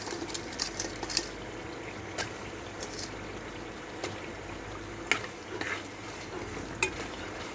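Tilapia fish heads fry in oil with a spice paste, producing a close, steady sizzle broken by irregular scraping and stirring knocks, with no speech over it.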